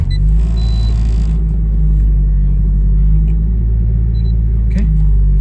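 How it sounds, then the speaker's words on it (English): A 1999 Nissan Silvia S15 Spec R with an upgraded fuel pump idles steadily after a cold start, a close, loud low rumble that holds an even, slightly lumpy pace with no revving. "this is gonna be starting it up from a cold start so you can see how it runs"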